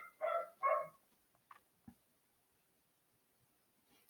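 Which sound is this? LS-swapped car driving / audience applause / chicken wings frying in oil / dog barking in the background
dog barking in the background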